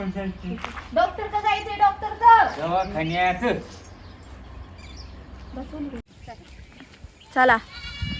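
Goats and sheep let out several loud, wavering bleats close by, a burst of overlapping calls early on and another near the end, while people talk nearby.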